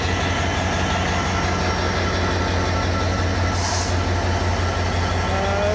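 A Nilsagar Express train hauled by locomotive 6639 rumbles steadily nearby at Saidpur, a low, continuous mechanical drone with a rhythmic clatter, and a brief hiss partway through.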